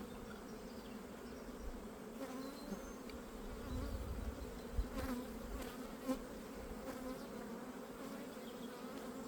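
A dense, steady drone of many honey bees buzzing on a hive frame close by, continuous and low, with a few soft knocks and bumps along the way.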